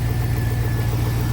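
Chevy 5.3 LS V8 truck engine idling in a steady, loud, close rumble with a smooth low drone and a faint high whine, with no talk over it.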